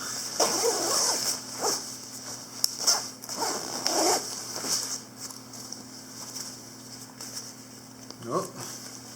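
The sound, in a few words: zipping up a Kelty Cosmic sleeping bag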